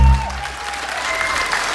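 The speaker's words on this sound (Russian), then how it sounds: "встречайте громкими аплодисментами замечательную команду" Loud applause from an audience greeting a band at a concert, a dense burst of clapping that swells at the start and then holds steady throughout.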